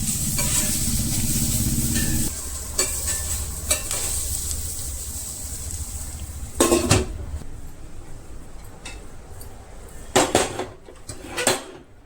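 Chickpeas and vegetables sautéing in a pan for a curry, a loud sizzle that drops after a couple of seconds, then scattered clatters of a utensil and pan knocks, close by with no speech.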